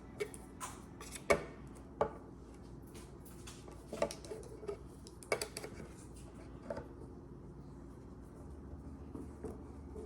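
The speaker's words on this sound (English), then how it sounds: "we got this type of knife right here. And we're gonna cut this." Knife cutting while making boiled peanuts at home, heard as scattered sharp ticks and chops of uneven rhythm, fairly close and moderate in level, with quieter handling clatter between strikes and no voices.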